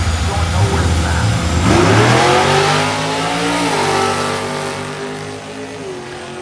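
A Mercedes-Benz diesel-powered Chevette drag car labours down the strip at a drag week meet, its engine droning loud with rising and falling harmonic sweeps as it strains, fading slightly toward the end amid a commentator's voice.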